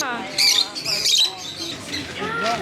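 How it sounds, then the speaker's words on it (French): Lovebirds in a Panamanian jungle give repeated shrill squawks and chirps, fairly close and busy, with a voice talking over them at times. "Il y a plein d'oiseaux. C'est des pécotons, c'est des inséparables. C'est des perroquets de l'amour."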